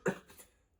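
A single short cough from someone with a tracheitis, close and abrupt, followed by a brief fading breathy tail.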